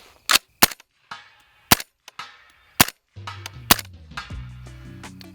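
Suppressed 7.62 rifle shots striking steel targets: six sharp, loud reports spaced about a second apart, each trailed by a ringing metallic tail, with a sustained tonal hum under the later shots.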